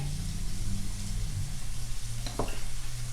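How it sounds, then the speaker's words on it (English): Shrimp sizzle steadily in a hot pan, a constant bright hiss with a low hum beneath and a brief scrape partway through. "You hear it sizzling already?"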